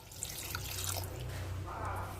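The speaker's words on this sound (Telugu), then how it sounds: "కొంచెం వాటర్ వేసుకుందాము." Water is poured into a cooking pot on the stove while preparing sweet pongal with jaggery, cashews and coconut, a soft continuous trickling and dripping close by, with no talking.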